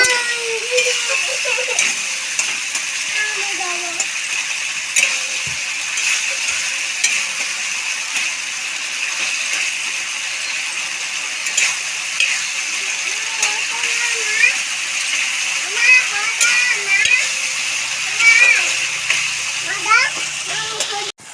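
Water is poured into a frying fish curry masala for silver carp, with sizzling and bubbling over a steady hiss throughout and someone talking in Bengali over the cooking.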